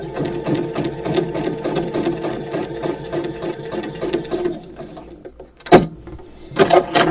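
A sewing machine stitching fabric runs steadily at close range with a fast, even mechanical rattle for about five seconds, then stops, followed by a few sharp clunks from the auto cutter.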